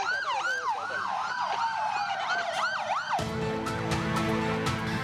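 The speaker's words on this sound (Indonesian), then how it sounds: "Menggunakan iring-iringan 6 ambulan" Loud wailing ambulance sirens from a convoy of six ambulances sweep up and down nearby, then shift abruptly to a harsher, denser siren tone with traffic rumble underneath.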